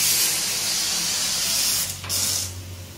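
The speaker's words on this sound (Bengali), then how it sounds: "ডালে জলটা বেশি হয়ে গেছে, বেরিয়ে গেল পুরো।" Lentil dal boiling over on a hot stove, with water spilling and sizzling in a steady loud hiss that flares briefly near the end over a low hum.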